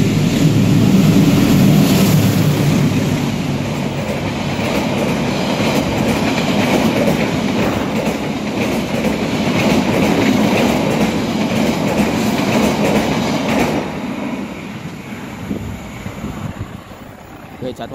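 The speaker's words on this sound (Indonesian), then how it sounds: "tiba-tiba ada kereta lewat" A Sancaka train rumbles past close by on the Wonokromo–Sepanjang line, loud and steady with wind buffeting the microphone, then the noise drops away after about fourteen seconds.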